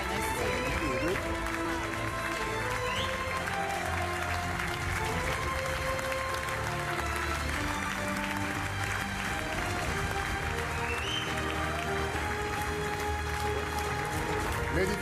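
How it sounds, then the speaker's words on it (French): Audience at the Ballon d'Or award ceremony claps continuously, a dense, loud wash of applause sustained throughout with a murmur of voices mixed in. "un tonnerre d'applaudissements pour les stars de cette soirée"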